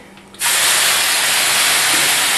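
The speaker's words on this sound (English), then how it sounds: "Hear that steam go?" A sudden loud hiss of steam bursts up as water is poured into a hot oven, holding strong and steady, close by.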